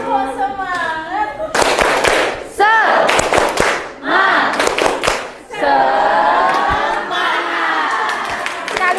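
A group performs the 'tepuk semangat' spirit clap in an Indonesian classroom, with several sharp bursts of loud unison clapping mixed with shouting voices, broken by brief pauses and followed by chatter.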